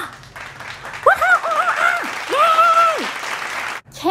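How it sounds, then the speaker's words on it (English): Loud clapping at a children's storytime, a burst of applause with voices rising and falling over it for a few seconds before it cuts off abruptly. "Clapping loud."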